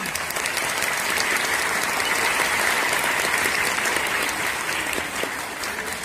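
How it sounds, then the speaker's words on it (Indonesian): Men in a large audience at a live comedy show applaud on cue. The dense, loud, continuous clapping fills the space from start to finish, with faint crowd murmur beneath. "Sing lanang, kita kepingin dengar tepuk tangannya."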